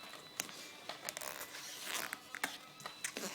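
Handlebar tape being wrapped around a bicycle handlebar under constant tension: quiet, repeated sticky peeling and rasping strokes with short sharp tearing bursts, close and faint, no talking.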